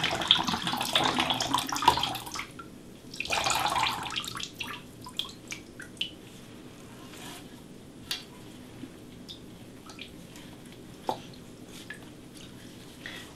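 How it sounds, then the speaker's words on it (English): Blue coolant gunk from a PC watercooling radiator pours and splashes loudly at first, then trails off into scattered drips and small wet spatters. "we're gonna see lots and lots of nasty, ooh yeah, in my case blue gunk, come pouring out of this radiator."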